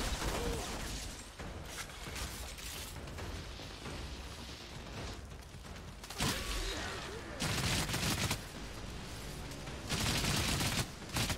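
Dense, continuous gunfire from the video game Outriders, with loud bursts and rapid shots layered over mechanical clatter, swelling in several louder volleys toward the end.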